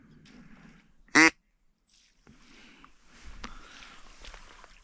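A person imitates a duck with one loud, close quack, followed by quiet outdoor sounds of footsteps and faint rustling.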